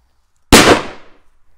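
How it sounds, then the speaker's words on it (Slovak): A powerful firecracker, a Cobra 8, detonates once right beside windows: a single sharp, very loud bang after brief silence, trailing into a fading rumble and echo. "tak hneď prvá petarda, dosť pekná rana"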